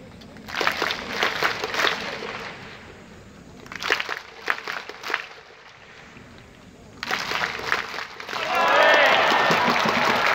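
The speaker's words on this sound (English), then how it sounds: "we were able to clap Yamada Tetsuto" A sparse crowd at a Japanese professional baseball game claps for a batter in rhythmic bursts separated by quieter gaps, with the clapping fairly distant and some crowd murmur and talk mixed in.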